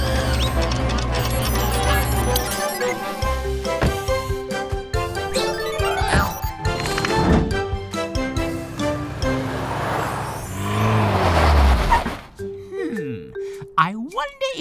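Tilly Tow Truck, a cartoon tow truck, drives off amid busy cartoon sound effects, bells and music, with engine rumbles and whooshes followed by a rising zooming sweep near the end; voices speak in places.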